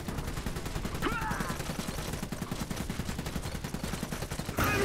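Rapid bursts of gunfire and fusillades from the Iron Harvest strategy game crackle steadily throughout, with a brief swooping effect near the start and a louder burst at the very end; a voice speaks faintly underneath.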